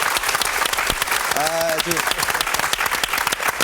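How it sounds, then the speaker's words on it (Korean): A broadcast audience applauds to welcome the conductor Chung Myung-whun, steady dense clapping throughout, while a voice speaks briefly over it partway through. "여러분 큰 박수로 환영을 해주십시오"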